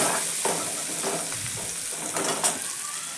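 Fresh coriander roasting in a pan with turmeric, salt and asafoetida, a soft continuous sizzle with intermittent stirring scrapes, close and fairly quiet, no voices.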